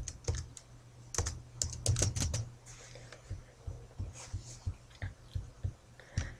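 Keys tapped on a computer keyboard to enter a name on a birthday card in MS Publisher, with a fast flurry of crisp clicks and then scattered single keystrokes over a low steady hum.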